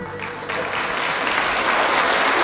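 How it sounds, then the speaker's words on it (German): A studio audience on a German TV quiz show bursts into applause, loud steady clapping from many hands that starts abruptly and keeps building. "Finde ich richtig nett, dass Sie also so ein Geschenk beklatschen auch"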